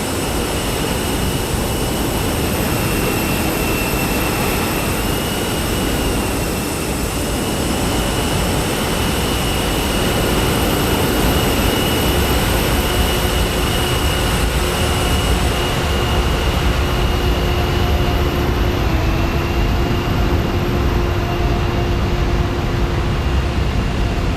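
Airbus A319-100 jet engines spool up in a flight simulator game during pushback at John F. Kennedy International Airport, a steady loud roar with rising whine tones that shift as the start sequence proceeds, no talk over it.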